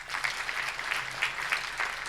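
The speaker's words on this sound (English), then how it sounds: "Please let's clap ourselves." Audience applause at an accounting institute's anniversary event, steady dense clapping throughout with a few louder swells, moderately distant and with no talk over it.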